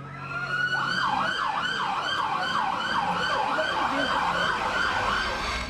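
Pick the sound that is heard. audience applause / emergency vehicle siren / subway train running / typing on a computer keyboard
emergency vehicle siren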